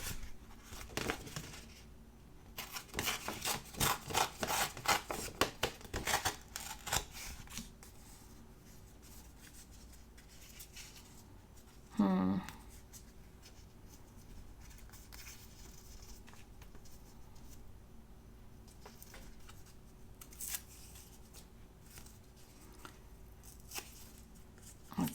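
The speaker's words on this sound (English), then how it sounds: "I'm going to cut that in a second." Scissors snipping small paper pieces during a planner decorating session, a burst of soft rapid cuts and rustling early on, then a quiet stretch with one brief louder crinkle.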